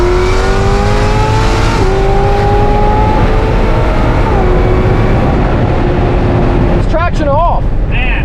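A 1,200 hp ZR1 with a drag pack accelerates hard on a street, its engine note loud and close, climbing in pitch and dropping back with each gear change, with voices briefly at the end.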